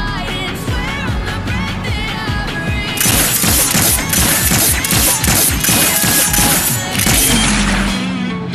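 Rapid gunfire in the Gangstar Vegas video game, aimed at a street light pole, rattles on as a dense, continuous burst of loud shots with crashing impacts throughout.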